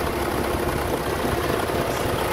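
A 2016 Chevrolet Captiva LS diesel with front-wheel drive idles close by, a smooth, even rumble that holds steady throughout with no knocks or rattles.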